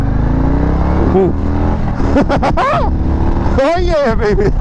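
A Harley-Davidson Low Rider S motorcycle rolling on throttle, its loud engine pulling steadily with rising revs, while a rider talks excitedly over it.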